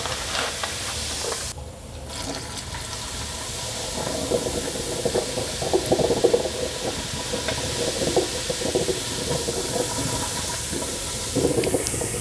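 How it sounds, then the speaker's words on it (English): Baking soda and vinegar fizzing in a clogged sink drain, a steady, close hiss and crackle of bubbling that carries on throughout with small bursts and no talking. "Now let the baking soda and vinegar do its thing about 5 minutes"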